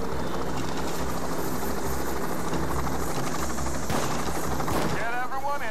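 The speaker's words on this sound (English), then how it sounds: "The escape chopper's here." Escape helicopter arriving during a heist in the video game Payday 2, a steady rotor drone under loud gunfire bursts and game music, with voices talking over it.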